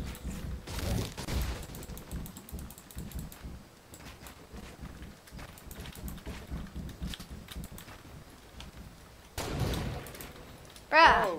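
Scattered gunshots from a video game ring out in short bursts and single cracks at mid distance, with players talking over much of the action.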